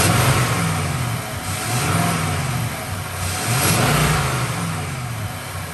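A Nissan Titan Pro4X fitted with a Z1 Offroad cold air intake revs repeatedly, its engine rising and falling in several smooth swells with a faint extra induction note, loud and close without talk.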